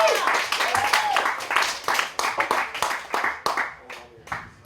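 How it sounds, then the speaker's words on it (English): A comedy club audience claps and cheers for a stand-up comedian taking the stage, dense applause rising and falling in waves with whoops, and a host's voice calling out over it. "Put your hands together for Rick Matthews."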